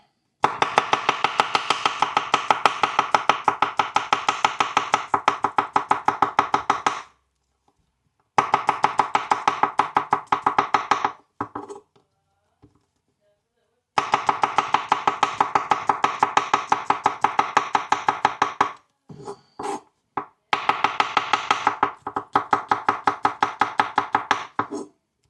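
Ten garlic cloves sliced with a knife on a board, fast steady runs of close, crisp chopping taps in long bursts separated by short pauses, with no talking.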